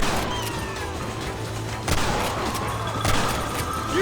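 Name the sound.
gunfire in the video game Red Dead Redemption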